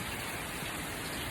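Steady rain falls on a cornfield, a dense, even hiss of drops with no breaks.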